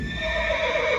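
A horse neighs at a stable during a light and sound show at Zorawar Fort in Leh, Ladakh: a single loud, close whinny heard alone.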